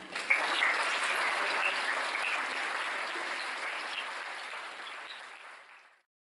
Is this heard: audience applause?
yes